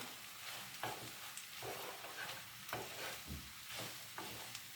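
A spoon stirs a pot of green lentils with noodles in soft, rhythmic scraping strokes about once a second, quiet and close over a low simmering sizzle.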